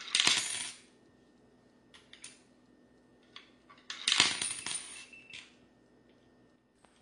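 Two bursts of coins clinking as they drop into a coin slot, each a quick metallic rattle with a few fainter clicks between, in a quiet room.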